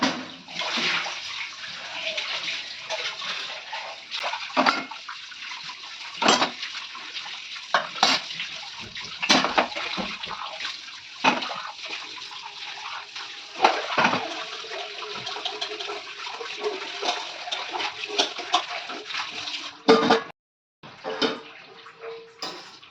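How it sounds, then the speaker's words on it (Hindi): Dishes being washed under a running tap in a home kitchen during rain, with steady water splashing and scattered clinks and knocks of utensils throughout, fairly close, with no talking. "अब इसी में मैं जा रही हूँ बर्तन धोने अभी।"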